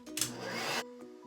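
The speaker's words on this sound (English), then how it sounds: "Turn on your hair dryer." A hair dryer roars on loudly for under a second and then cuts off, leaving a faint motor hum with a few soft clicks.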